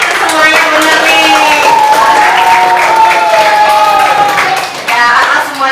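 Classroom of students clapping together at a teacher's request, a loud, continuous patter of hands with a teacher's voice speaking over it throughout.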